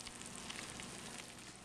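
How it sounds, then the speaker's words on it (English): Eggplant Parmesan heating in a pan gives off a steady, soft, continuous sizzle and crackle, quiet and close, with no talking over it. "I can hear it sizzling."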